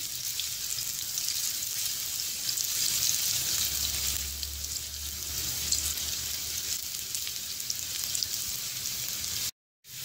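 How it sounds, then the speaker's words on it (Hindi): Onions fry in a pan with a steady, close hiss and crackle of hot oil that runs throughout, cut off briefly just before the end. "और प्याज को अच्छे से फ्राई कर लेंगे।"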